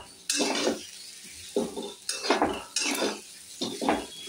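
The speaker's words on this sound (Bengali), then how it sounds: "ভাজছি, এর মধ্যে ঘি দিয়েছি।" A pan of food frying in ghee is stirred, giving a series of sharp metallic scrapes and clinks against the pan in uneven strokes, close and loud, over a faint sizzle.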